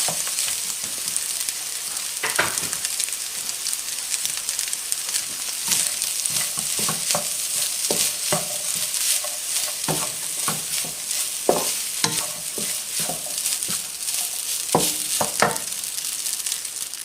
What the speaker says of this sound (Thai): ใส่ข้าวลงไปสองถ้วยน้อยๆค่ะสำหรับทานสองท่านค่ะ